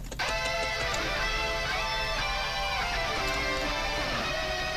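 A cover of a video game battle theme stacks one melody over three harmony lines, forming a dense, sustained wall of bright tones that shift pitch together and stay loud throughout, with no voice.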